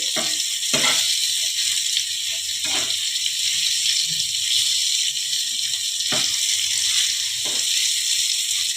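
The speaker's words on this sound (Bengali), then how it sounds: "আমার পনিরগুলো ভাজা হয়ে গেছে" Paneer pieces fry in a pan with a steady, close sizzle running throughout, broken by a few brief stirring clatters; no one speaks.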